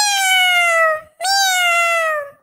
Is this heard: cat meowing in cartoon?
yes